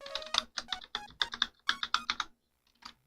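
Computer keyboard keys are pressed to enter music notes, giving a quick run of crisp, close clicks in an uneven rhythm that stops briefly, then one last tap.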